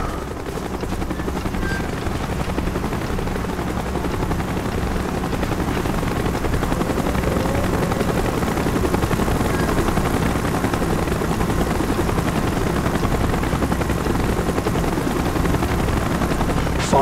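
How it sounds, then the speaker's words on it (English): A loud, steady helicopter rotor drone from the video game Call of Duty: Black Ops fills the whole stretch, thumping continuously and close by as the chopper approaches, with no voices over it. "Chopper's inbound. Move it."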